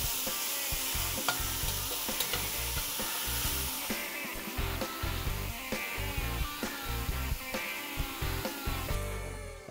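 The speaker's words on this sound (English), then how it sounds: "I'm very particular about browning my meat" Deer meat browning in a pan for chili, a steady loud sizzle with repeated scraping stirs at an uneven rhythm, close up, with no talk.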